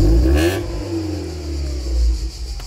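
A Mercedes W202 engine revs hard at full throttle with a loud, sustained roar that rises and holds, close up and without any talk.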